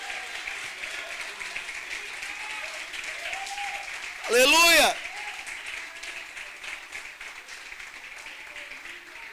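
Sustained applause from a church congregation fills the background while a voice speaks over it, with a brief louder swell near the middle.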